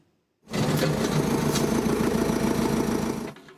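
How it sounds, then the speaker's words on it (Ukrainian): Tractors removing old asphalt during road repairs on a city-centre street in Dnipro give a loud, steady, close mechanical hum that starts abruptly, holds for about three seconds, then fades away, with no voices. "Гудять трактори, робочі знімають старий асфальт."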